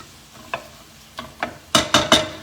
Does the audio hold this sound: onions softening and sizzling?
yes